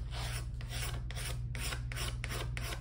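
The edge of a new pickguard for a vintage acoustic guitar is filed smooth with steady back-and-forth strokes. About six soft, close rasping passes repeat at an even pace, with no talking.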